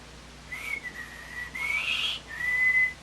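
A person whistles a few sustained notes, the middle one sliding upward, with short pauses between them against quiet background hiss.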